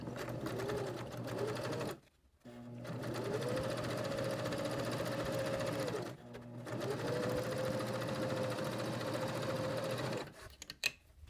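A sewing machine basting a side seam on fabric for a journal cover, running in steady humming bursts with two brief pauses, close and alone.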